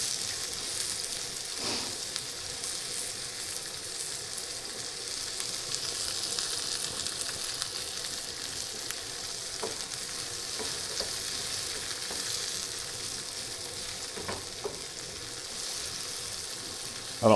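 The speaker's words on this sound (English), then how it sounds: "Saute this a little while." Vegetables sauté in a pan for a tilapia scramble, producing a steady, even sizzle with occasional clicks of stirring and no talking.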